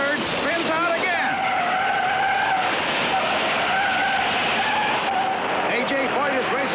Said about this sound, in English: Andretti in third spins out again